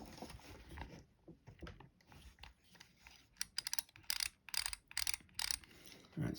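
A Shakespeare spinning reel's drag is screwed down, producing quiet irregular mechanical clicks and ratcheting, then bursts of rapid sharp clicking close by, with no talk.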